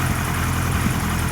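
A 1978 Kawasaki KZ1000A motorcycle engine idles at about 1100 RPM with a loud, steady, close-up rumble and no talking.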